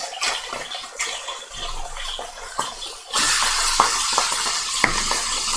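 Food cooking in a pan until golden, first light stirring and scraping clinks, then a steady loud hiss of frying that sets in sharply and continues with occasional pops.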